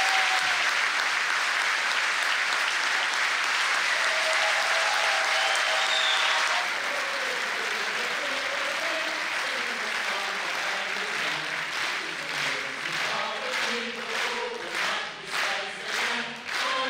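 A theatre audience applauds at the close of a performance of Les Misérables, a dense, sustained wash of clapping that thins toward individual claps near the end, with no speech over it.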